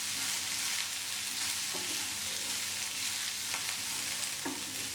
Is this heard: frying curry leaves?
yes